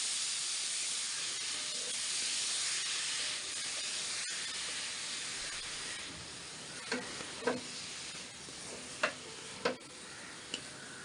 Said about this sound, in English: In that I am putting the carrot grated, and we'll saute this for some time